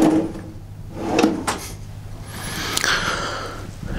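Drawers in the cabin of a 37 m steel-hulled motorsailer slide open and shut, giving a few close wooden scrapes and knocks spread over four seconds with quiet gaps between them.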